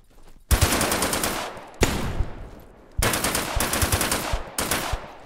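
Automatic gunfire in the multiplayer shooter game Deadside: four loud, close bursts of rapid shots separated by short pauses, with no talking.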